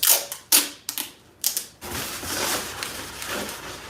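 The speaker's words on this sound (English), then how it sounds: "I'm gonna prepare some pieces of tape, which is just packing tape." Packing tape is pulled off the roll while a balloon arch is being prepared: a few short, sharp rips come first, then one long continuous tearing screech, close and fairly loud with no talking.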